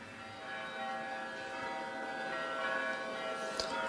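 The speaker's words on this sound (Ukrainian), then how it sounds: "Зараз ми чуємо дзвони" Church bells at the Kyiv Pechersk Lavra ring steadily with a layered metallic hum, sustained and moderately distant, without any talking.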